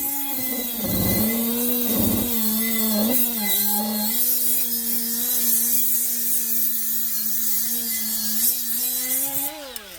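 A Milwaukee M12 right angle die grinder sands a pitted brake rotor, giving a steady, loud high-pitched whine with a few brief dips early on as the disc bites, then a rising pitch at the end.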